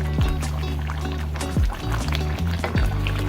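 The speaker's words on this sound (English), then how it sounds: "The pasta is cooking and swelling up." Vermicelli pasta simmers uncovered in a pot, with soft bubbling and liquid plops recurring every second or so close by over a low steady hum.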